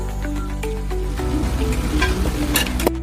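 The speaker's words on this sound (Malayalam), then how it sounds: "ഇനി നമുക്ക് അതിലേക്ക് കുറച്ച് പച്ചവെളിച്ചെണ്ണ ഒഴിച്ചു കൊടുക്കാം" Anchovy peera fries in a pan as raw coconut oil is poured in, giving a loud, close, crackling sizzle with a steady low hum and a few sharp clicks before it cuts off abruptly near the end.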